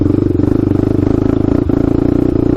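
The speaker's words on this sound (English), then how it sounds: "Kind of whipping the throttle here and there a little bit just to make it sporadic" Honda 400EX quad engine held at a steady rev with the throttle blipped now and then, a dense mechanical drone with a slight dip partway through, loud and close.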